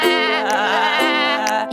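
Sung sheep bleat in an Italian children's animal-sounds cartoon song, a sustained wavering musical tone carried by melody for nearly two seconds, likely a voice or instrument imitating the sheep.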